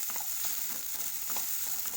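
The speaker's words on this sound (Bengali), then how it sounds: "এবার আলুটা আমি একটু ফ্রাই করে নেব" Potato pieces fry in hot oil in a pan for a Bengali bitter gourd and potato curry with mustard paste, giving a close, steady sizzle with scattered crackles and soft stirring scrapes and no talking.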